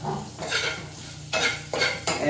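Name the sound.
crushed pepper, garlic, chilli and curry leaves sizzling in hot coconut oil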